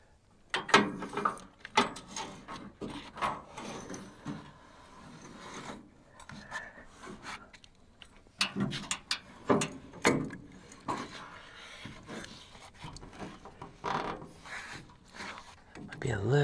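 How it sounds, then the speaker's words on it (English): A new, thicker drive belt being fitted and adjusted on a Frontier OS27 sawmill, with irregular close scraping, rubbing and ratcheting metal sounds and small knocks. "With that new belt on there, it's thicker than the old belt, so I have to loosen it up a little bit more."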